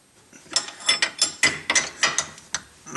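Ratcheting wrench tightening a bolt on the lower lateral control arm of a Mitsubishi Eclipse, a run of about eight quick, sharp metallic clicks in an uneven rhythm, close and clear with no talking.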